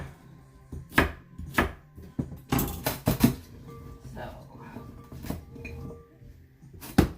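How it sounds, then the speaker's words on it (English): A knife chops fennel into bite-sized pieces on a board, a run of sharp, uneven, close strikes with brief pauses between bursts of cuts. "So I'm just going to chop this up."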